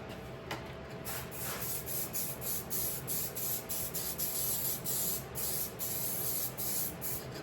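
Adhesive is sprayed from a can onto a choke cable part for a 2004 Honda Rancher TRX400FA ATV in a string of short, close hissing bursts at a steady rhythm, with no talking.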